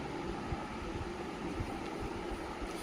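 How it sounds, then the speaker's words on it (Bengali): A train pulls into Madhyamgram station with a dense, steady low rumble and rolling clatter, heard from on board or nearby at a constant level. "এই দেখ ট্রেন মধ্যমগ্রাম ঢুকছে।"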